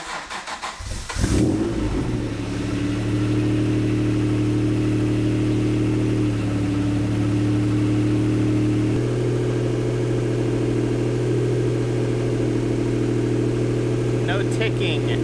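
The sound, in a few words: Acura NSX engine revving with new Pride headers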